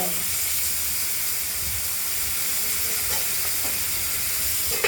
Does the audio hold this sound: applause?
no